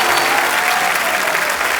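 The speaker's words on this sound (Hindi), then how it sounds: "जोरदार तालियां एक बार" Dense, loud applause from a large studio audience at a comedy show, steady clapping throughout with no pauses.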